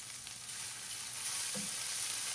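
About a pound of mushrooms left unstirred in hot oil to brown, giving a steady, even frying sizzle close by with one faint knock near the middle.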